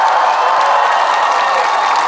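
A large festival crowd at an outdoor evening concert at the Yeongju Seonbi Culture Festival bursts into loud, continuous applause mixed with cheering and whoops for a singer, a steady roar filling the whole moment.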